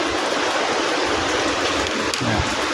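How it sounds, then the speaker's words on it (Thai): Heavy rain pours down steadily in a broadband hiss, with a thicker wash close by and no let-up across the whole moment. "ฟังเสียงสายฝนพี่น้องเนี่ย"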